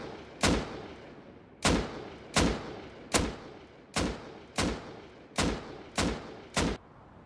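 Assault rifle in Rust fired in slow single shots, eight sharp loud cracks spaced roughly a second apart, each with a short reverberant tail, with nothing else heard between them.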